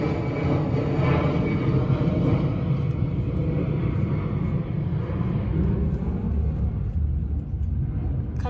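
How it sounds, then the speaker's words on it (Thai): A continuous deep roar of an airplane passing overhead, loud and rumbling, slowly fading toward the end. "เสียงเครื่องบิน"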